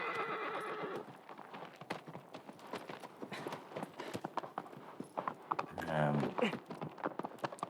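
Agro, the horse in the video game Shadow of the Colossus, trots with rapid clip-clopping hoofbeats, then a whinny near the end, while someone talks over the game.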